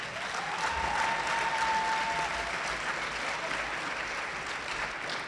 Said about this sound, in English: So give our coaches a round of applause.